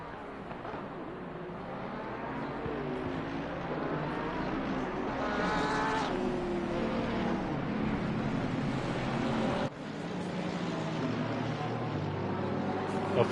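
Race cars roll through the formation lap at Zandvoort in Assetto Corsa Competizione, a steady blended engine drone from several cars with shifting tones, continuous and fairly loud, with a brief dip near the end.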